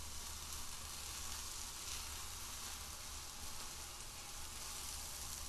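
Scrambled eggs sizzle and fry steadily in a hot pan, a close, dense crackling hiss that holds at an even level with no talking over it.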